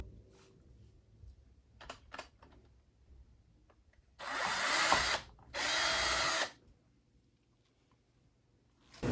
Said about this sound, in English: Be forewarned, this is a drill.